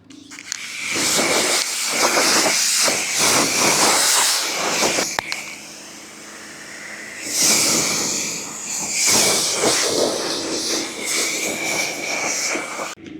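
A pressure washer sprays a pre-rinse over a ceramic coated car, making a loud, close rushing hiss of water that swells and fades as the spray moves, with a brief lull midway.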